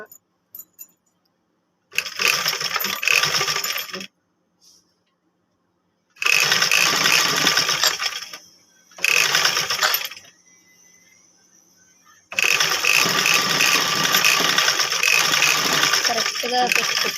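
A sewing machine stitching a blouse, loud whirring bursts of rapid stitching separated by silent pauses, four runs in all, with the last one continuing to the end.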